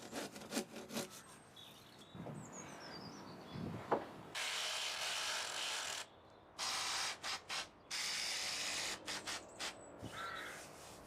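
A handsaw cuts through a wooden fascia beam along a marked angled line, giving several bursts of steady rasping strokes close by, with brief pauses between runs and no talk.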